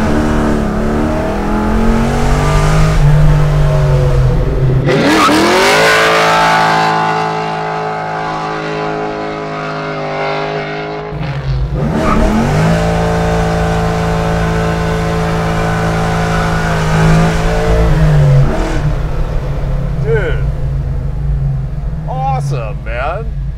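An LS3-powered Chevelle restomod accelerates hard. The loud V8 roar climbs through the gears, drops briefly between shifts, then pulls strongly again, heard from inside the car with occasional talk over it.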